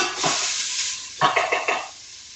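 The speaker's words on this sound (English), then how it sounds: "I'm going to go ahead and dump this in here and get the onions and celery started." Onions and celery drop into hot oil in a multicooker, two loud bursts of sizzle close by, the second swelling in a few pulses before fading.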